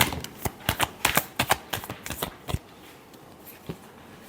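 Tarot cards give a short run of close, crisp shuffling clicks in an uneven rhythm. The clicks thin out after a couple of seconds, leaving quiet with one last click near the end.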